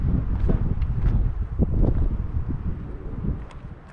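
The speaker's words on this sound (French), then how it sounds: "Il y a un sacré vent" Strong wind buffets a microphone in the open air near a hilltop castle above a desert village in Spain, a loud, gusting low roar with irregular thumps and rustles throughout and no talk.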